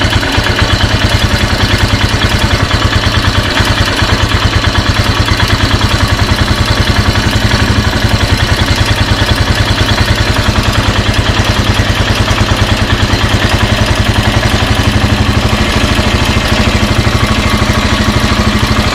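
A Royal Enfield Himalayan motorcycle engine idles during carburetor tuning, a steady, fast, close thumping rhythm with mechanical clatter that holds an even level throughout.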